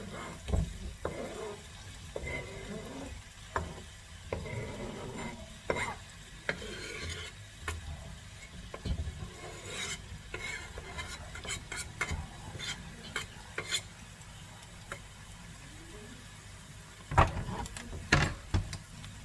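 Steady sizzling of finely chopped eggplant in a hot pan with repeated scraping and clinking as it is stirred, close and continuous, with a few sharper knocks near the end.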